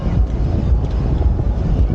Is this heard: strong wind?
yes